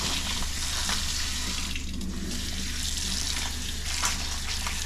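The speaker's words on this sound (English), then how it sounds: "mussels, so I have them in the shell, and they have to be steamed. Okay. So I'm going to rinse them first." Water runs steadily from a kitchen tap over mussels in their shells being rinsed in cold water, a continuous close splashing hiss with no talk.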